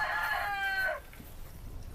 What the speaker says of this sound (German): Die Hühner sind schon da.